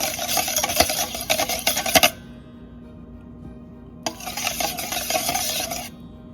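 A spoon stirs curd in a bowl in two bursts of scraping and clinking, a roughly two-second gap between them, close and fairly loud with no voices.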